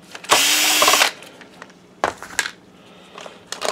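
A power screwdriver whirs in one loud, steady burst lasting under a second while backing screws out of an Optoma UHD51A DLP projector, followed by shorter clicks and rattles of handling the housing.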